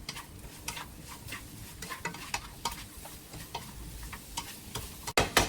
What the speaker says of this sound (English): after you're done stirring, add another half spoon of salt